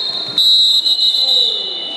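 At a wrestling match, a referee blows a long, shrill whistle that holds a steady piercing tone through nearly the whole moment. It sounds loud and close over faint gym background noise.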